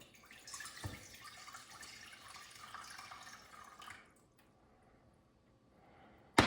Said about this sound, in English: you take 2 cups of water and pour it into a saucepan